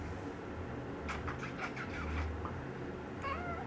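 A cat meows a few times, soft and somewhat distant, over a steady low background hum.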